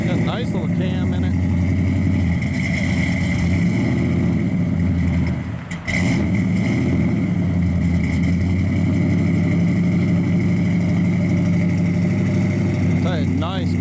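A 1967 Plymouth Satellite 440 with headers, dual exhaust and a cam idles close by, a steady deep rumble with a slightly lumpy throb and a brief dip midway.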